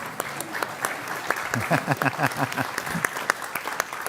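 Applause from a church congregation welcomes newcomers during a Sunday service. Steady, moderately close clapping runs throughout, with a few voices talking over it.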